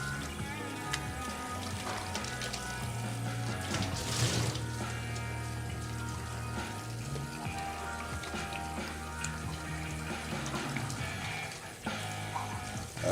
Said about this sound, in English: I'm gonna get some water. I'm just gonna rinse them very quickly,